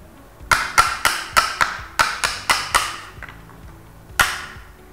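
A chisel is struck to cut into a wooden window frame, giving about ten sharp, evenly spaced knocks, then a short pause and one final, louder blow, all close and clear.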